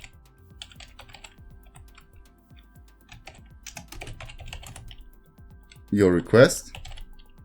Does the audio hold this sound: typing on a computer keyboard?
yes